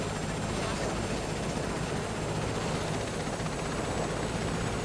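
An Airbus helicopter in Microsoft Flight Simulator 2024 idles on the ground while taxiing, a dense steady engine and rotor roar, loud and unbroken throughout.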